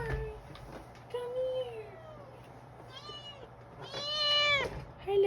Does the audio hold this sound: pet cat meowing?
yes